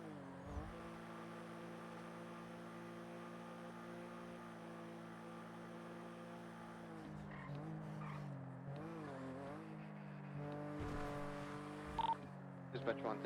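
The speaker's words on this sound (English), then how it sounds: "I don't like the sounds that this car's making right now." In GTA V NoPixel roleplay, a car engine runs with a steady, strained drone for several seconds, then its pitch wavers and rises in odd swells, with a voice talking over it.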